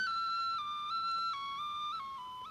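A small clay toy whistle attached to a sculpted clay dragon in the Crimean Tatar folk style gives a steady, high, pure tone, loud and close, stepping down in pitch a few times over about two seconds.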